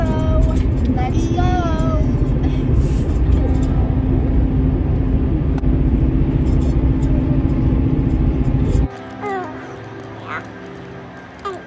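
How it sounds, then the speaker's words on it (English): A car drives along the road with a steady low rumble of engine and tire noise that drops away near the end, and people talk inside over it. "Driving to Fan Expo."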